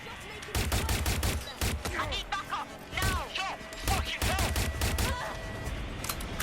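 Gunfire in the Watch Dogs Legion video game, loud bursts of rapid shots in uneven clusters, with chirping game sounds and a voice speaking briefly between volleys.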